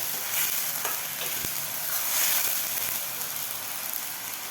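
Ground masala paste sautéing in hot oil for chana masala, a steady close sizzle and crackle with faint stirring scrapes, continuous and even throughout.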